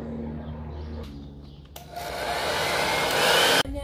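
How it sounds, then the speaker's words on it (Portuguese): A hair dryer blows hot air onto varnish on a custom pencil case. A low hum gives way to a loud, steady roar that swells over a couple of seconds before cutting off abruptly. "vou jogar um vaporzinho quente aqui com o secador pra gente dar uma amolecida nesse verniz"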